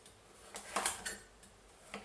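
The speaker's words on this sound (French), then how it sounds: "On commence par les carottes. Donc tu peux couper en sections de 3-4 cm à peu près." Knife cutting carrots into sections on a board, a few faint, sharp taps and clicks spaced irregularly with a brighter cluster in the middle.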